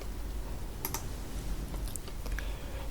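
A computer keyboard clicks softly as someone types a few keys, faint scattered taps over a steady low background hum.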